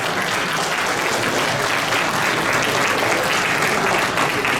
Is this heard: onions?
no